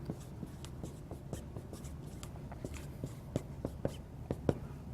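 Pen or marker scratching out math notation on a board or paper, a steady run of short strokes and taps that grows sharper toward the end, close and clear with faint breathy background.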